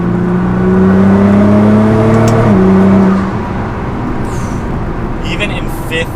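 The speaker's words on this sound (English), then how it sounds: "Even in fifth gear, that was half throttle, and it's still pulling." A Nissan GT-R with a Stage 2 tune pulls hard at half throttle in fourth and fifth gear from about 60 mph, a loud, rising engine drone that falls off into steady road and wind roar, with a voice talking over it.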